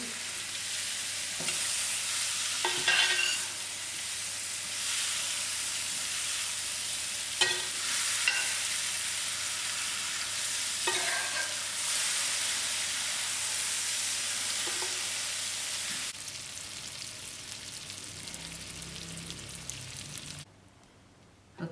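Vermicelli frying in melted margarine in a pot, a dense, steady sizzle heard close up with occasional stirring scrapes and clatters, tapering off slightly near the end before cutting out.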